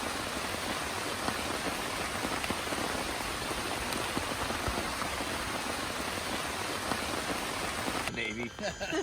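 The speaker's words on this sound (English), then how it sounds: "How much it's raining right now." Heavy rain pours down steadily during a canoe trip on the Shenandoah River in Appalachia, a dense, continuous hiss of drops drumming close by with no break for the full stretch.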